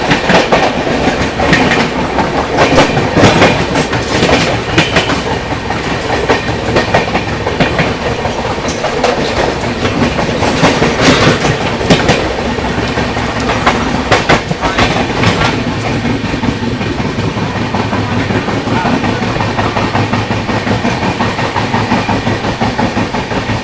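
Arunachal AC Superfast Express from Delhi rolling fast through Ghaziabad Junction without stopping while overtaking another express, a steady loud rumble with rhythmic clickety-clack of wheels over rail joints throughout.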